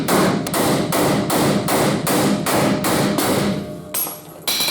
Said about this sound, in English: See if we can hammer these things up out of here.